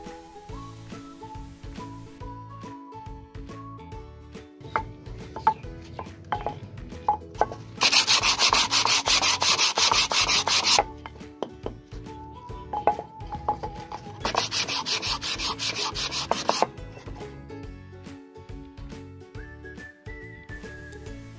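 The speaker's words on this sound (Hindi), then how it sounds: "सैंड पेपर के बीच में मैंने लकड़ी का एक और टुकड़ा रख के फिर उसको जो लकड़ी का पीस है उसके ऊपर आस्ते आस्ते मैं रगड़ रहा हूँ" A wooden piece is rubbed slowly by hand with sandpaper wrapped around a small wood block, heard as two long, steady scratchy rubbing passes over background music with whistling.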